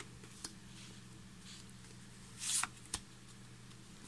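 Tarot cards from a deck being handled and picked, a few faint soft card slides and taps over a quiet room hum, with one brief louder shuffle-like rustle near the middle.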